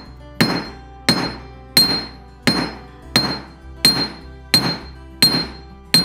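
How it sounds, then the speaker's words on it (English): A big hammer forging a silver cuff on a polished steel block rings out in nine loud, evenly spaced metallic strikes. Each blow has a sharp clink and a short decaying ring, close up with no speech. "with a big hammer on a polished steel block"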